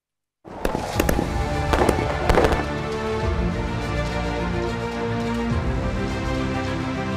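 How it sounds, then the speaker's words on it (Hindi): Firecrackers burst during Diwali in Delhi, a dense, continuous crackle of pops and bangs with several sharper louder cracks early on, sustained throughout without talk. "दिल्ली वालों ने खूब पटाखे चलाए।"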